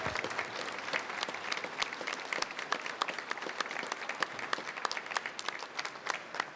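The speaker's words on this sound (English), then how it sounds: "how about a big round of applause for the dancers here?" Crowd applauding the Murphy School of Irish Dance dancers at a city hall St. Patrick's Day and Irish heritage celebration, dense continuous clapping from a large group, steady and moderately distant throughout.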